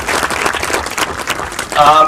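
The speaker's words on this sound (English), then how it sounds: "Let's give him a quick round of applause" Brief applause from a small group of students in a public speaking class, a short scatter of claps for a classmate's answer, with a voice coming in over the end.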